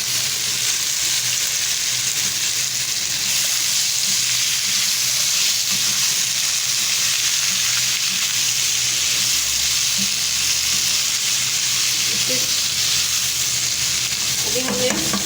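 Washed pumpkin frying in a pan with a loud, continuous dense sizzle and hiss that holds steady throughout, close by and without speech.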